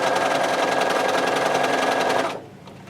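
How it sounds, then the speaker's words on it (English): A sewing machine stitches a quilt top of Lulu Roses fabric, running with a loud, steady, rapid whirring hum before stopping abruptly near the end. "I'm going to sew all the way to the end"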